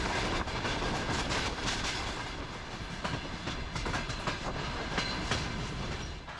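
Georgia's oldest electric passenger train, first run with General Electric-built S series locomotives, heard from on board in the Likhi Mountains as a steady loud rumble with rhythmic clickety-clack of wheels over rail joints, no voices.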